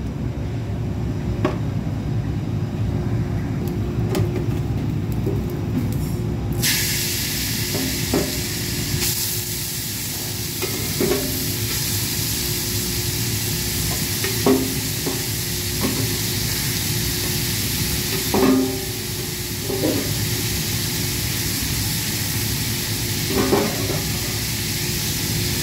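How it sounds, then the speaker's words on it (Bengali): Grated bottle gourd sizzles steadily in hot ghee in a pan over a low flame. A few soft scraping clicks come through at scattered moments. "এবার এটা গরম হতেই, হালকা গরম হতেই আমি এর উপর দিয়ে লাউগুলো ঢেলে নেব।"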